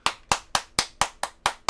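Eight sharp hand claps ring out in an even, quick rhythm, close and crisp, with nothing else in the background.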